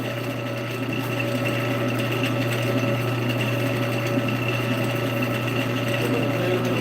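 A wood lathe spins steadily while a piece is sanded with sandpaper, a constant, even motor hum with a faint steady hiss, no pauses and no talking.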